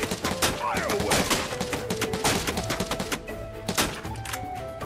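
Rapid bursts of gunfire in the video game Final Fantasy 7 Rebirth, dense overlapping shots fired continuously over a busy game soundtrack, loud and close throughout.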